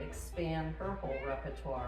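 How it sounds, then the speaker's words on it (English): A pet cat named Charlie meows softly in the background, a few short cries nearly buried under steady close conversation. "that's my cat in the background"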